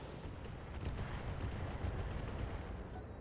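Weapons fire aimed at a Jenner mech in BattleTech: a dense, continuous barrage of low, rumbling blasts and crackling impacts, steady and moderately loud throughout with no voices.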